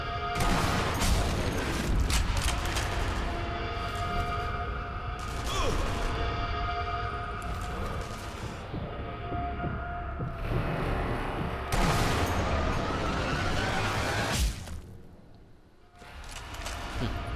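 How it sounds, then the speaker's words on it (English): Repeated gunfire in Sniper Elite V2, sharp loud rifle shots and booming reports spaced irregularly over a dense background of combat noise, with a brief lull near the end. "I am just kind of squeezing off random shots at this point"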